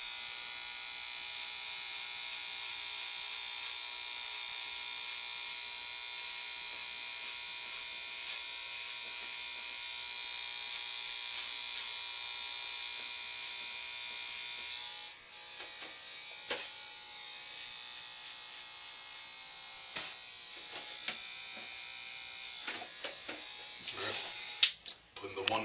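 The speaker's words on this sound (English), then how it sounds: "Clippers, extend it all the way out." Electric hair clippers buzz steadily and closely for about fifteen seconds while trimming a light Caesar taper, then give way to brief clicks and handling noises.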